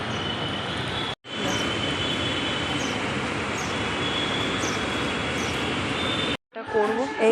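A loud, steady rumble of a metro train running continuously near a metro station, broken by two brief drop-outs, with faint voices underneath.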